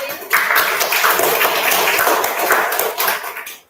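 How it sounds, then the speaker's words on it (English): Dense applause from a live audience greeting a performer on a talent-show stage, a steady wash of many hands clapping that swells at the start and fades out near the end. "Let's give a big round of applause to Walter."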